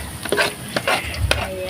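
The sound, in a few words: onion and garlic sautéing in a pan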